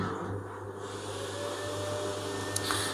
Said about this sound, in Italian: con lo scarico dell'acqua la lavatrice sta pian piano diminuendo la schiuma